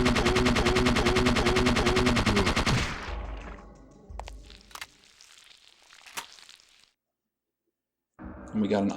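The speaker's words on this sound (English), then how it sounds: "Some fire, followed up by a small arms fire." Rapid small-arms gunfire in Parasite Eve 2 rattles loudly for about three seconds, then fades into scattered hits and echoing debris, a short silence, and a sudden loud burst at the end.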